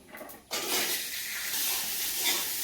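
Drumstick stalks frying in hot oil with cumin in a village kitchen, a steady loud sizzle that bursts in after a brief quiet start and holds unbroken, with faint stirring underneath.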